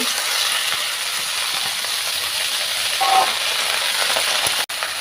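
Red amaranth leaves drop into a pan of frying green chilli, giving a steady, close sizzling hiss with a brief louder burst midway and a quick clunk near the end.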